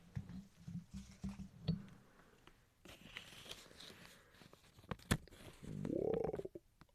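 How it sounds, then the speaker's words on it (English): A paper one-dollar bill crinkles and rustles right against a microphone, with scattered soft crackles, taps and a rubbing swell near the end, quiet and very close. "Whoa, I can hear the paper."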